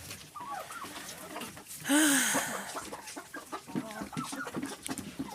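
Hens in a Ukrainian home farmyard cluck repeatedly near the microphone, with a louder squawking burst partway through amid steady poultry chatter.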